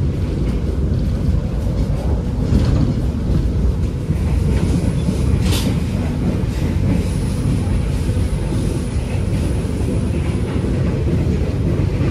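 Pandalungan passenger train on the Sidoarjo–Probolinggo route running along the rails, with a steady, loud rumble and clatter throughout and a few brief higher squeals, and no talking.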